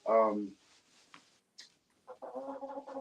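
Backyard hens cluck in a Northeast winter, a loud burst of clucking opening the clip, then brief faint calls and a steady run of murmuring clucks close by.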